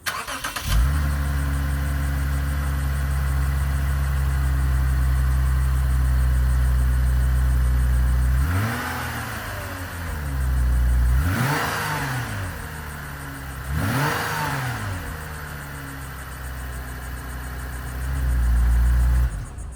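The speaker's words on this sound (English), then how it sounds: "Start the car, let it idle for a second, rev it a couple times so you can hear the factory exhaust." A Lexus IS250 with its factory exhaust idles with a steady low rumble, then revs up three times in quick swells before settling back to idle and rising once more.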